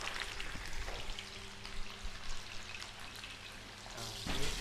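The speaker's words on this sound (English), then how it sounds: "we're gonna very carefully place this down and sear it nicely" A piece of meat tied with kitchen twine searing in a hot pan, giving a dense, steady crackling sizzle like rain on a surface that swells slightly near the end, close up with no talking.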